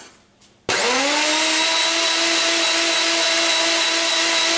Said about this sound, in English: I'm going to add the milk to the NutriBullet cup, and then I'm going to blend this again